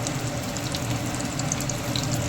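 Corn pakoda balls hitting hot oil one by one, giving a steady, close, bubbling sizzle of frying batter with no talk.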